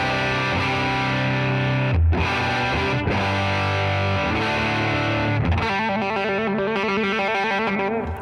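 Electric guitar with a humbucker pickup driven into a distorted Deluxe Reverb amp, playing loud sustained chords with brief breaks, then a rhythmic, choppy riff to the end, no voices.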